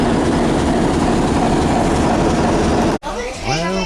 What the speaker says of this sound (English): they don't have any steam locomotives running at this railroad museum, I don't believe, so diesel's fine